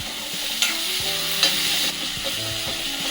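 Tomatoes for an omelette curry being stirred and mashed with a ladle in a pan, a steady scraping sizzle broken by a few sharp clacks of metal against the pan, close and fairly loud with no talking.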